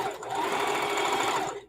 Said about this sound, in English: I'm just sewing and sewing and sewing.